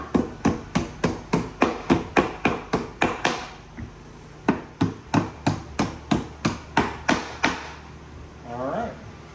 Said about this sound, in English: We're just going to hammer driver those in.